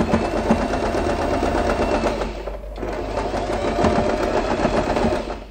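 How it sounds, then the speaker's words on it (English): A sewing machine runs steadily, stitching cloth for a butterfly hair bow, with a continuous rapid mechanical chatter, close and loud, and a brief slowdown midway before resuming. "We sew the fabric to hold the fabrics together."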